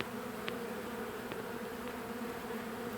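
Bees from a swarm drone around a hive box in a continuous, even buzz at moderate level, with a few individual insects flying close past now and then.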